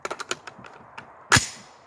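A Palmetto AR-10 rifle chambered in .308, loaded with 150 gr Freedom Munitions ammunition, fires one sharp, loud shot after a series of light mechanical clicks and handling taps.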